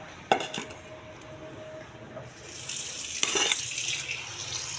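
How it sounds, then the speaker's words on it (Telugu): Grapes being washed in a bowl under tap water: a sharp clink of the bowl at the start, then running water swells and splashes steadily for the last couple of seconds. "ట్యాప్ వాటర్ వేసి శుభ్రంగా కడగాలి."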